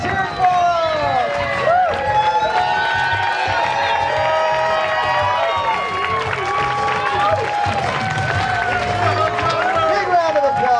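Wedding guests cheer and whoop for a newly married bride and groom, a dense crowd roar with clapping mixed in that stays loud and steady throughout, with voices and shouts layered on top.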